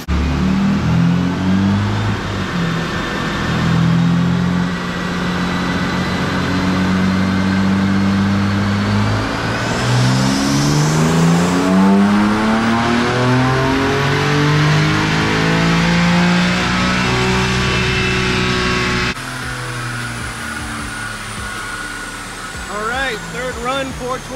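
A stock car engine on a dynamometer climbs steadily through its revs in one long, loud pull, the tone rising for several seconds before dropping back as the run ends.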